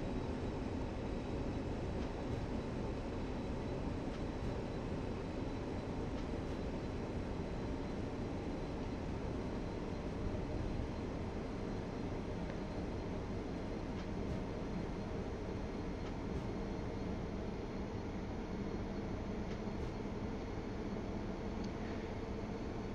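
Steady, loud locomotive running noise from a Baureihe 110 electric locomotive in the Zusi 3 train simulator, on a 1979 route from Übach-Palenberg to Aachen Hbf: a continuous broadband rumble with rail hum that stays even throughout, with no talking.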